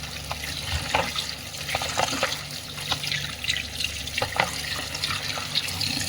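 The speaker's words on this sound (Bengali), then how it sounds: "মাছগুলো ভালো করে ধুয়ে নিতে হবে আগে।" Fish are washed under a running kitchen tap, the water splashing and trickling steadily with faint clinks and handling noises close by, no voices.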